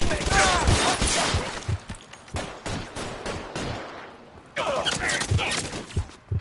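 Gunfire in the L.A. Noire video game: bursts of close, loud shots cluster at the start and again near the end, with scattered single cracks in between and a voice shouting over the shooting.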